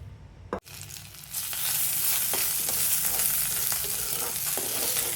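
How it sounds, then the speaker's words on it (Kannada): Ivy gourd fries in oil in a pan on a gas stove, giving a loud, continuous close sizzle with occasional stirring scrapes after a brief quiet start. "ಎಣ್ಣೆ ಹಾಕೊಂಡು ತೊಂಡೆಕಾಯಿ ಹುರ್ಕೊಳ್ಳೋಣ"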